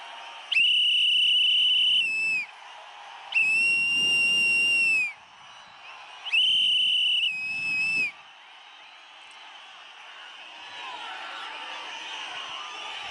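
Shrill whistles at an open-air political election rally come in three long sustained blasts of about two seconds each, followed by a rising roar of crowd noise.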